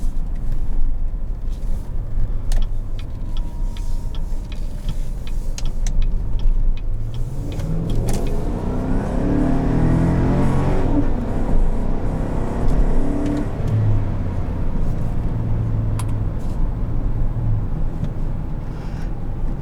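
A 2017 Chevrolet Tahoe LT with a 5.3-litre V8 drives on the road, its engine a steady, close drone that swells into a stronger pull for a few seconds midway before settling back to a cruising hum.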